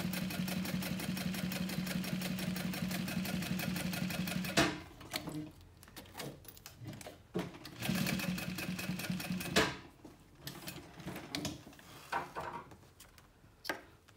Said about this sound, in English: I'm just gonna sew along this bottom edge and stop.